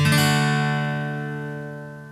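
A single guitar chord strummed across the top four strings rings out clearly, its bright tone slowly fading away over a couple of seconds.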